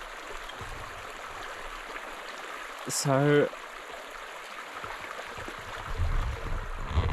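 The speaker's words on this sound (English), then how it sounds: "We've got the river down here, which seems to be flowing a little bit more in this section." A river runs past a riverside campsite on a hot day, its steady rushing water a constant close wash throughout, with a brief burst of speech partway through and some rumbling nearby handling toward the end.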